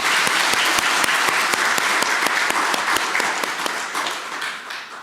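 A church congregation gives a big round of applause to welcome a preacher at an afternoon worship service, with dense, steady clapping that holds loud and then fades slightly at the end.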